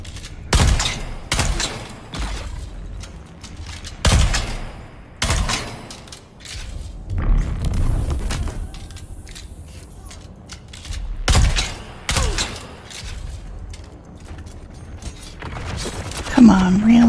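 Video game gunfire in Dune-themed Landsraad play comes as loud, sharp bursts at intervals with rumbling booms between them, and a voice talks over parts of the action.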